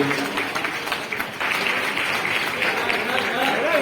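Steady, fairly loud clapping from a crowd at a house key handover ceremony, continuous broadband patter that swells slightly after the first second and holds to the end.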